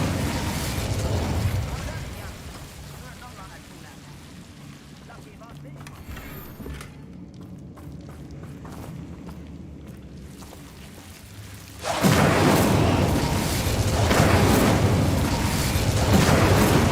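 A fire spell is cast in Hogwarts Legacy, giving a sudden loud burst of crackling, roaring flame partway through that sustains to the end, after a quieter stretch of low ambient rumble.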